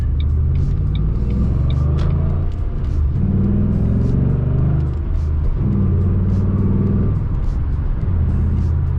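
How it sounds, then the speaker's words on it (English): A 2009 Ford Mustang GT V8 fitted with an Airaid cold air intake and tuner kit drones steadily from inside the car while driving, a loud continuous low rumble with slight swells as the throttle opens and eases. "I can definitely hear it open. I hear the throttle bodies a lot more right now."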